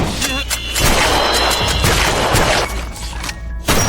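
Loud, dense crashing blasts fill a film action scene in which everyone in a control room is killed by explosions, the booms and debris noise continuous throughout with brief dips near the end.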